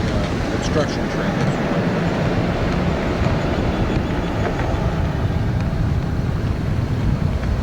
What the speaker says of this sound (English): This is the construction train.